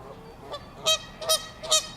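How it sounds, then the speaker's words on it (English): Geese honk in a park, giving three loud, close, nasal honks in a quick, even rhythm after a fainter call, with no voices. "I'll show you the geese over here."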